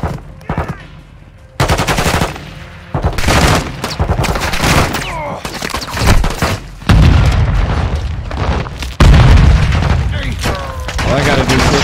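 A detonated charge explodes during a Modern Warfare 2 prison-break campaign mission in Mexico, bringing loud booms and bursts of rapid gunfire, with several heavy blasts that hit sharply and decay, while someone talks excitedly over the action.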